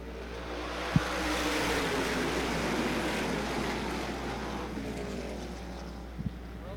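Race cars run under green flag in the US Open at Lancaster National Speedway. Their engines blend into a steady, distant, broad roar with a couple of brief sharp knocks.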